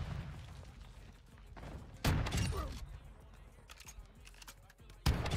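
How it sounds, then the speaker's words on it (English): Video game gunfire cracks in sharp bursts, with loud shots near two and five seconds and scattered lighter pops between, alongside a few spoken remarks. "Oh my god, he almost shot me."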